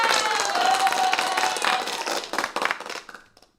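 A canned applause effect plays loud, a wash of many hands with a few sharp claps and cheers, then tapers off and cuts to silence near the end.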